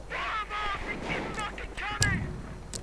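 Mortar shells hit infantry teams in a strategy game, with several muffled blasts and a sharper bang near the end, all under steady talk from a commentator.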